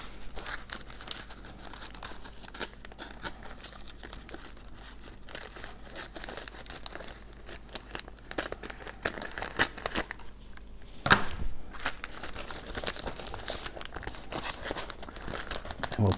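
Laminate film covering being pulled tight and trimmed on a foam spec wing: steady, close crinkling and crackling plastic with occasional sharper tearing rustles and one louder snap partway through.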